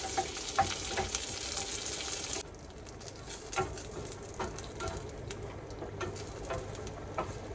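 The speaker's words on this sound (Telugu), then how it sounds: "పుదీనా ఆకులు వేసుకొని వాటిని కూడా కొంచెం మంచిగా వేయించుకోవాలి" Mint leaves fry in hot oil for a village-style tomato chutney, a steady close sizzle with scattered crackles and light stirring clicks; the hiss drops somewhat partway through and continues more quietly.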